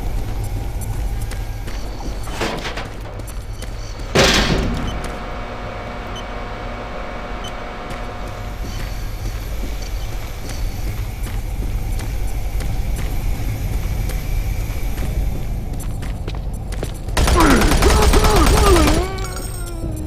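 Doom 3 BFG gameplay with a P90 being fired, mostly as a loud, steady rumble of game sound. A sharp burst of gunfire comes near the start and a longer, louder burst near the end.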